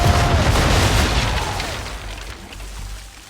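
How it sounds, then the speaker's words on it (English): Ship cannons fire on an enemy vessel in Assassin's Creed 3, loud deep booming blasts that merge into a thick, rumbling wall of sound and slowly fade, with no talk over them. "Now, aim all guns at her bow and do as much damage as possible"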